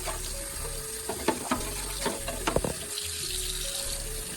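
Fairly warm tap water runs into a sink while a painted RC car body is rinsed, a steady close splashing stream with occasional clunks and knocks of the plastic shell, no voices.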